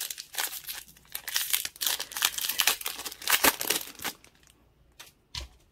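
A 2020 NBA Prizm trading card pack is ripped open with loud, close crinkling and tearing of foil wrapper, continuous for about four seconds before tapering into a couple of sharp crackles.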